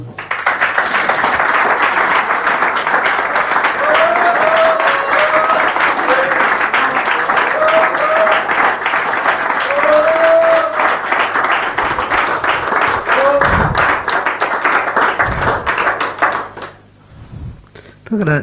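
Audience at a St Andrews folk club in 1978 applauding after a song, a loud, sustained burst of dense clapping with a few voices calling out, fading away near the end.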